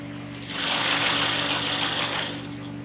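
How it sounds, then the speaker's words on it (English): Sewing machine stitching a godet into a mermaid skirt, a close, loud steady whirring burst of about two seconds over a low constant hum, alone without talk. "then I'll continue sewing my godet downwards like this"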